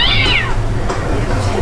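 A cat meows once, loud and close, in a sliding cry that falls in pitch, tied to the Haunted Mansion's one-eyed guard cat; a low steady background rumble continues after the call.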